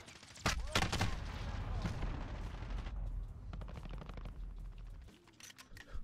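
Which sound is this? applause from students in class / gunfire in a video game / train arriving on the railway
gunfire in a video game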